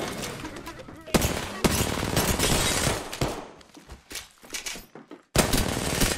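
Video game gunfire in an online shooter: loud bursts of rapid shots in several volleys with short gaps between them, close and dominant, with a player's voice mixed in.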